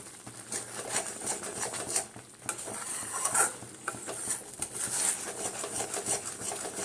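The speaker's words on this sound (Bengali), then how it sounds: "এইভাবে নাড়তে হবে, না হলে নিচে লেগে যাবে।" A spoon stirring semolina halwa with saffron in a pan, soft repeated scraping and faint sizzling patter, close and fairly quiet, with no talking.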